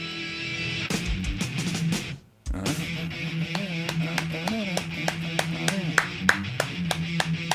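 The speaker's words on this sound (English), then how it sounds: "I'm going to clap along" Hands clap along steadily to a song, sharp regular claps over a continuous backing track with a sustained tone.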